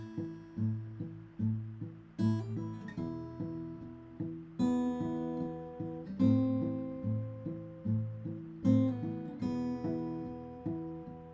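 A fingerpicked acoustic guitar plays a steady, rolling Travis picking pattern of plucked notes with an alternating bass, close and clear, with no voices.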